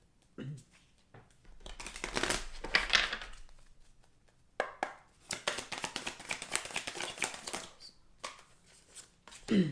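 Crisp riffling and slapping of tarot cards being shuffled in bursts, with brief pauses between rounds, close up and fairly quiet.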